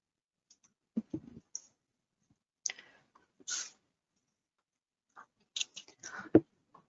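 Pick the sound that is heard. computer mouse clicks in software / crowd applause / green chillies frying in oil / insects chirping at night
computer mouse clicks in software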